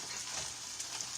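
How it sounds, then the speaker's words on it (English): Onions frying in a pan on a turned-up burner, a steady soft sizzle and crackle, continuous and fairly quiet, with no talking over it. "I'm going to turn it up just about 30 seconds or so. Get my onions a little browner."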